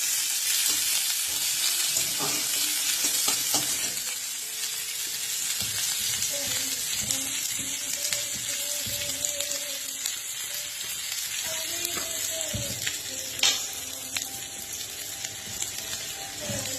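Onion, bay leaf and dried chilli frying in oil in a home kitchen for Bengali dal, a steady close sizzle running throughout, with occasional stirring clinks and scrapes and faint background tones.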